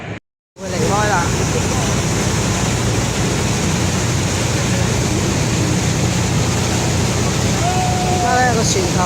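A tour boat on the water at Niagara Falls, Ontario, Canada turns back toward the dock, its engine and rushing water a steady, loud wash with wind buffeting the microphone and faint voices underneath.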